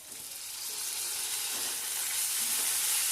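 Chopped tomato sizzles in a hot pan while a Jhal Pitha is being cooked, a steady, loud broadband hiss that swells slightly over a few seconds with no talking.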